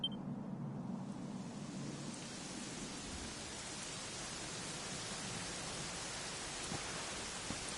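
Steady heavy rainfall in the video game Dragon Quest 11, a dense continuous hiss of rain on surfaces that holds at an even level throughout with no voices over it.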